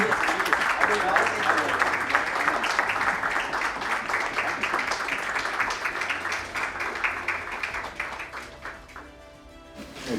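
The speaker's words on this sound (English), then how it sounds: "Please give a round of applause" Audience at an investment awards ceremony applauds, a dense, steady stretch of clapping that carries on for several seconds before thinning out near the end, with a voice briefly audible over it.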